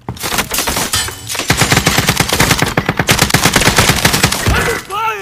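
Rapid machine gun bursts rattle loudly and steadily through a video game firefight, dense repeated shots forming a continuous roll with brief pauses, a voice shouting briefly near the end.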